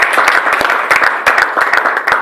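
A church congregation at a Sunday service in Brussels claps together in loud, irregular bursts that rise and fall in waves, with sharp individual claps standing out from the crowd.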